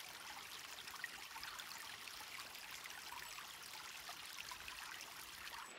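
A winter stream in central Portugal flows steadily, a soft continuous rushing and trickling of water at moderate distance, even and unbroken with no voices.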